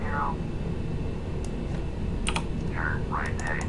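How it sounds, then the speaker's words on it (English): A computer mouse and keyboard click while Flight Simulator X is played, with a few sparse, sharp clicks and short keypress clusters over a steady hiss of background noise. "If you can hear clicking, that's just basically me moving the mouse either to set the heading or the altimeter, or clicking 1 on my keyboard"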